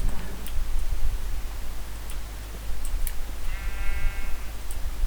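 Sheep bleating in Minecraft, a short wavering bleat near the end over a steady low game ambience with faint ticking clicks, no talk.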